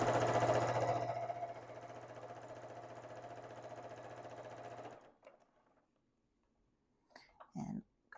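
A sewing machine stitches a quilted maple leaf table topper in a fast, steady mechanical hum, loud at first and then softer. It stops after about five seconds, followed by quiet rustles and a short clunk.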